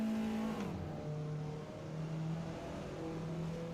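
Race car engine in a racing video game, holding a steady high-revving drone with strong harmonics that dips in pitch once early on, alone and close.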